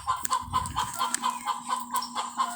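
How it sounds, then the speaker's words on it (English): Chickens clucking in a steady series of short, repeated calls close by, with a faint low hum underneath. "Those are chickies."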